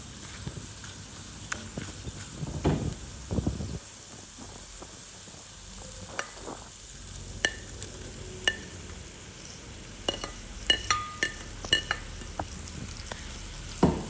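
Sliced big onions being stirred into anchovies frying in a pan, with steady soft sizzling broken by scraping stirs and a few louder clatters of the spoon against the pan.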